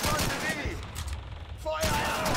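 Barrage gunfire in the video game Call of Duty 2, a dense burst of rapid shots with a brief lull before the firing resumes, loud and close.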